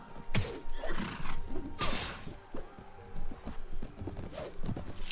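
Hooves thud and clop steadily in a Mount & Blade battle, the rhythm repeating over a busy din of combat, with a brief neigh-like cry and sharp impact sounds.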